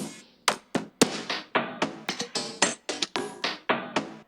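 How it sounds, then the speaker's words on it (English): A Cymatics percussion loop plays alone: a busy, steady pattern of sharp tapping and knocking hits in quick rhythm, close and clear. "I added this percussion loop from Cymatics."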